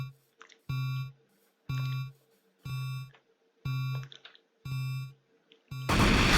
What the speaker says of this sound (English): Radiological alarm, nuclear weapon armed, 10 seconds left.